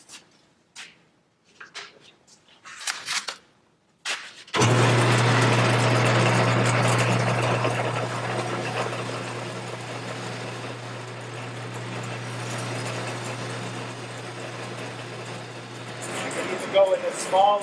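A wood lathe spins steadily with a low hum while a gouge cuts bulk from the turning workpiece, a loud continuous scraping drone that starts abruptly after a few seconds of quieter knocks and handling.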